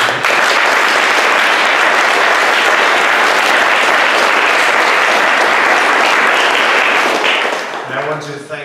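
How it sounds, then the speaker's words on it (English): Loud, sustained applause from a crowd fills the room after a user experience design panel talk, fading out at the end as a voice begins speaking. "So round of applause for us."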